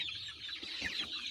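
Chicks cheeping and clucking steadily inside a warm brooder with several birds together, a dense continuous chorus of high chirps at moderate volume with no talking.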